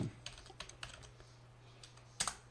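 A computer keyboard types a short command to start a Python Flask web server: a few quiet, scattered keystrokes over a low steady hum, ending in a slightly louder pair of clicks.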